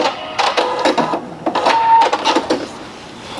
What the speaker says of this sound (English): I'm sewing over more than 4 layers of denim